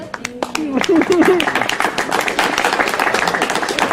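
A convention crowd at a pony fan guest of honor panel claps loudly and steadily, dense applause filling the space, with a voice speaking over it at the start.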